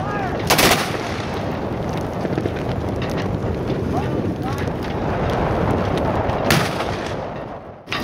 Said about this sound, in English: And now the Texas Army will give us a gun salute.